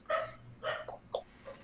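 A human voice imitates a dog barking, giving five short, faint bark-like bursts spaced unevenly within under two seconds.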